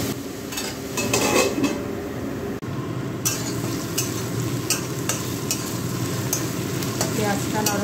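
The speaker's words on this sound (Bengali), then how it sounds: "পেঁয়াজটা নরম হয়ে গেছে, ভাজা ভাজা হয়ে গেছে" Onion frying and being stirred in a pan, with steady close sizzling throughout and repeated scraping stirs of a utensil against the metal.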